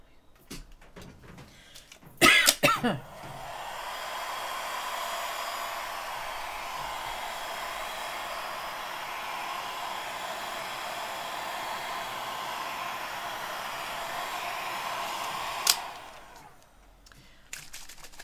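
A hair dryer runs steadily for about twelve seconds over a collage greeting card, a close, even whoosh that starts after a couple of clicks and handling noises and cuts off with a click before quiet resumes.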